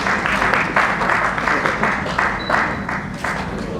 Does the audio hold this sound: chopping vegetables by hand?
no